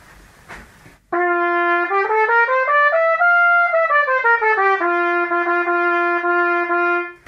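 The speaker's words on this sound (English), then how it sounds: "I'm going to pull it out this much" A trumpet with its tuning slide pulled far out plays one sustained, bright note after a second of near silence. The pitch bends up and back down midway, then holds steady, loud and alone, until the end.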